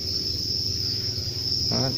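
Crickets chirping in a breeding tray, a dense, continuous high trill running steadily from start to finish, with a brief rustling scratch near the end.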